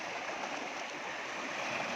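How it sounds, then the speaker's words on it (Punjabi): The swollen Sutlej river, filled to the brim by inflow from the Swan river, rushes past in a steady, dense roar of fast-flowing water, continuous and unbroken with no voices. "ਬਹੁਤ ਹੀ ਤੇਜ਼ ਰਫ਼ਤਾਰ ਦੇ ਨਾਲ ਜਿਹੜਾ ਹੈ ਪਾਣੀ ਅੱਗੇ ਨੂੰ ਵਧ ਰਿਹਾ ਹੈ"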